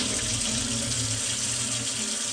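Water runs steadily into a sink as defrosted prawns are drained, a continuous close rushing splash with no breaks and no talking.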